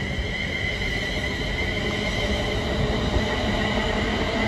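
A train at the Crewe station platform on the West Coast Main Line produces a steady, loud, broad rumble and rush that fills the whole stretch without a break.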